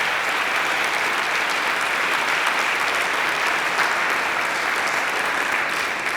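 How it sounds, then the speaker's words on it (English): Sustained applause fills a hall at a university fall convocation, a dense and loud wash of many hands clapping continuously throughout, with no voices over it. "let's please acknowledge her with just a wonderful round of applause so that she hears in heaven"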